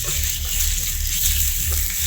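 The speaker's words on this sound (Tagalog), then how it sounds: "isasangad ko lang saglit yung ating pork liver" Pork liver pan-frying briefly, a steady, close, loud sizzle with some stirring, and no talk.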